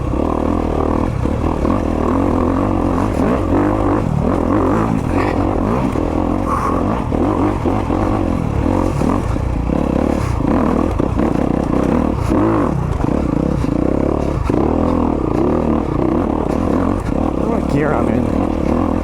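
A 2022 Honda CRF250RX dirt bike engine drones and revs steadily while being ridden, loud and close throughout with rattling clatter and wind noise, a voice faintly talking over it.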